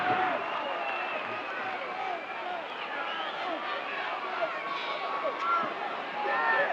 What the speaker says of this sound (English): this crowd here is pro Dusty Rhodes, and they are screaming their approval of everything he does